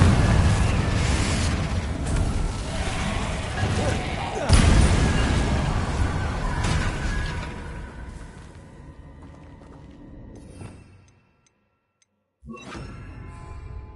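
Confringo blasting spell explosions from the Hogwarts Legacy video game: loud, dense booming bursts fill the first several seconds, a sharp hit near four and a half seconds, then the sound fades to near silence before resuming.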